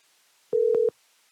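A phone call waits on the line: a single short electronic tone, clean and steady, sounds alone for about half a second in near silence.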